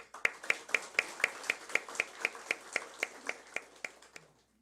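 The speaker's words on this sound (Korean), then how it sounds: "우리 찬양해 주신 모든 분들께 감사의 박수하겠습니다" A church congregation claps in thanks after a special hymn sung by women over seventy, striking together in a steady, even rhythm of about four claps a second, around sixteen crisp beats that fade and stop.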